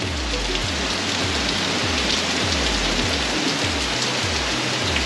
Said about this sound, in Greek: Έπιασε και μία μπόρα.